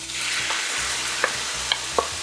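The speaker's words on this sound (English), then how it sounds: "I'm going to add the grated tomatoes" Grated tomatoes hit a hot pan of infused spices with a loud, steady hissing sizzle, with a few faint clicks of a utensil near the end.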